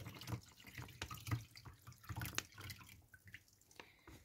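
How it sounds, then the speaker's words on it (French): Water poured slowly from a bag into a container for a reef aquarium, with a soft, trickling splash that rises and falls near and close up, no talk. "on va prendre le sac et on va le verser l'eau doucement dans le récipient"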